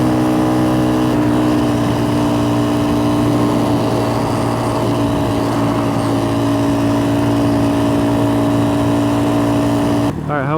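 An X-Pro Templar 250 dual-sport motorcycle engine idles steadily and close, a continuous low mechanical drone that holds through the whole stretch before a brief change at the end.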